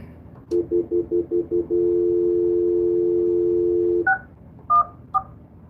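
Telephone keypad tones: six quick beeps in a row, then one long steady tone, then a few short higher beeps, all clear and close with no speech.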